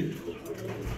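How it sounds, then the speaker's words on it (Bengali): A female pigeon imported from Italy coos softly and closely over about a second, with a low, continuous murmuring tone. "এটা একটা মাদি কবুতর।"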